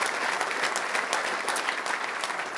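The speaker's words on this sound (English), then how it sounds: "Yes, you can give this man some applause." Audience applause for former 49ers Hall of Famer Ronnie Lott at a trophy presentation, a dense, steady wash of many hands clapping at full volume for the whole stretch, with no voices standing out.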